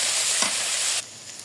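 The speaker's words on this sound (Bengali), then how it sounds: "এবার কিমাটা দিলাম, ভালো মতো উল্টে পাল্টে নেড়ে চেড়ে নিব।" Minced beef with onions and spices is stirred and fried in a pan, giving a soft hissing sizzle with a brief scrape of the spoon before the sound drops away to a quieter fry.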